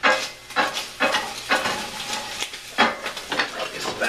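Pancetta cooks in a pan with a spatula stirring and scraping it, giving repeated bursts of crackling sizzle at a loose, uneven rhythm, close and fairly quiet.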